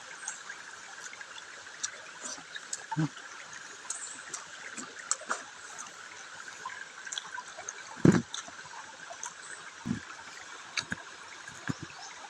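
A steady, soft flow of stream water runs throughout, with a few brief splashes and knocks over the constant background wash.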